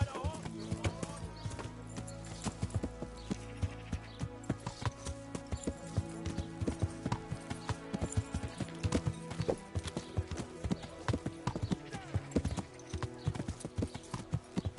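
Horse hooves clip-clop steadily in a PS4 video game, a close rhythmic patter of hoofbeats over layered game music and ambience, with a brief whinny-like sound and some talk mixed in.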